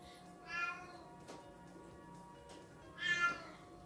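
A cat meows twice at the door, wanting to be let in: one fairly loud meow near the start and a second after a pause of about two and a half seconds, with quiet room tone between and no talk.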